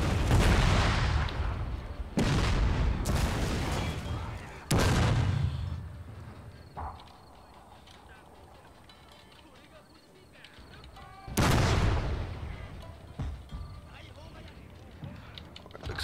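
Cannon and gunfire in the game Total War: Shogun 2 – Fall of the Samurai, with several loud booming blasts spaced seconds apart over a rumbling battle din, while someone talks throughout.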